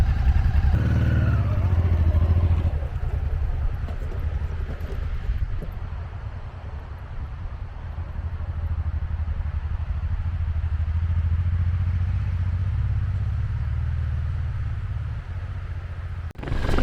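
A motorcycle on a trip near Chemehivskyi canyon and Yahidna mountain catches with a short revving burst, then runs with a steady, close low engine rumble as it pulls away.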